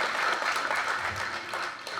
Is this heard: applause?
yes